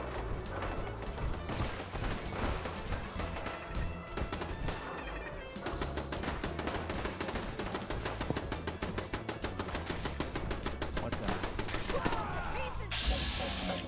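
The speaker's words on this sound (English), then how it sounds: "I can hear huge amounts of combat going on somewhere" Heavy gunfire rattles through a Fallout 4 battle involving a turret, Mirelurks and Raiders: dense, continuous bursts of rapid shots and crashes that keep going for the whole stretch.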